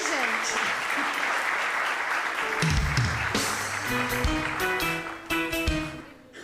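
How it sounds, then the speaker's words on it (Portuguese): A church congregation applauds with a steady wash of clapping, while voices and low rumbling sounds overlap in the second half and the applause thins toward the end. "Vamos aplaudir ele, gente."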